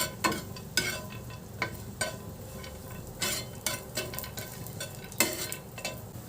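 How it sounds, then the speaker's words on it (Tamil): Five or six cashew nuts roast in a pan for bread laddu while a spoon stirs them, making a quiet sizzle and repeated close scrapes and taps in an uneven rhythm. "ஒரு 5-6 முந்திரி பருப்பு, இதையும் நல்லா ரோஸ்ட் பண்ணி எடுத்துக்கலாம்"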